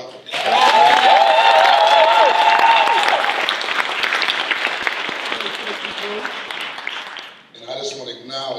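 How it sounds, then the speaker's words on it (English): Gala audience giving an award honoree a round of applause, a loud, full burst of clapping with whoops and cheers layered on top that gradually thins, then a voice begins speaking near the end. "Give her a round of applause."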